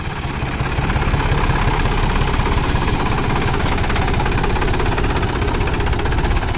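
Diesel engine of a Jhounder 5036 or Sonalika tractor running at steady speed, a loud, close, continuous knocking rumble with no talk over it.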